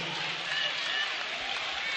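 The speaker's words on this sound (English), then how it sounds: "Big round of applause" College basketball crowd at a Bethune-Cookman versus North Carolina A&T game applauding a player as he fouls out, an even, steady wash of clapping heard at a distance across the arena for two seconds.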